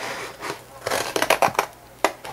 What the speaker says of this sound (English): Just going to cut that out real quick with some scissors.